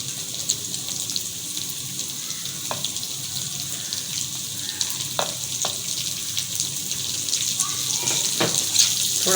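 Onions sizzling in a pan of hot oil for chicken kachori, a steady close hiss of frying with occasional clinks and stirring sounds, no talk.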